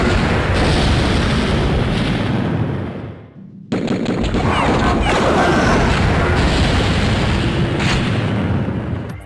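Rapid gunfire from the 1997 PlayStation game Hybrid, a loud, dense and heavily compressed burst of shots and booms that runs almost continuously, with a brief dip before the firing resumes at full force.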